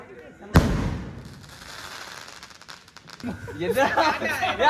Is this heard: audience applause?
no